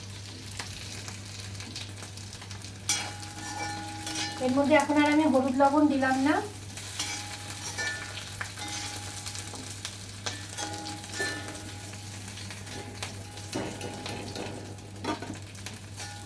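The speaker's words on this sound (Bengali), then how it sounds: "আলুটা মোটামুটি ভাজা হয়ে গেছে।" Potatoes frying in mustard oil in a pan give a steady close sizzle with occasional stirring clatter, while a person talks briefly over it and a low electrical hum runs underneath throughout.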